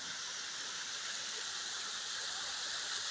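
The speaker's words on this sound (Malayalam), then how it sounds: "പാറക്കെട്ടിക്കൂടൊക്കെ വെള്ളം ഇരച്ച് ചാടുക" Water rushes over rocks in a forest near Thirunelli, Kerala, a steady broadband roar that stays even and fairly close throughout, with no other sound standing out.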